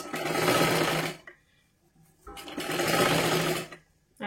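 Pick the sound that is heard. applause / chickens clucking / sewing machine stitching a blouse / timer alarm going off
sewing machine stitching a blouse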